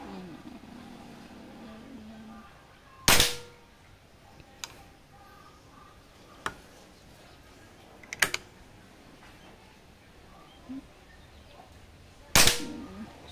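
A PCP long-tank air rifle fires pellets outdoors: two loud sharp cracks spaced about nine seconds apart, with fainter clicks and ticks between them and soft background voices.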